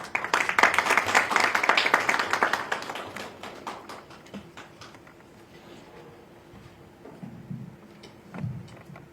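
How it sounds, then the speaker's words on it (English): An audience applauds to welcome a speaker at an alumni meeting and information session, with dense clapping for about three seconds that thins into scattered claps and fades into room quiet. "Please welcome Dr. Umar Saeed with a warm round of applause."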